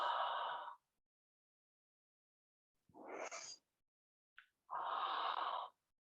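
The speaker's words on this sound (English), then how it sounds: "You're opening up the throat with ha sound. Inhale, exhale, ha." Yoga breathing with three audible breaths: a strong exhale with an open-throated ha, a shorter rising breath with a brief catch, then another long ha exhale, close and clear with quiet pauses between.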